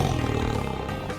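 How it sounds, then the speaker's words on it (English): A tiger gives one deep, loud roar held close for about a second before it trails off. "Tigers are big cats with orange fur and black stripes."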